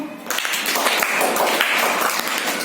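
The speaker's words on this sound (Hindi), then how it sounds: "आरती के लिए ताली बजा दो।" Schoolchildren in a primary classroom clap together for a classmate, a dense, steady patter of many small hands that holds evenly from start to finish.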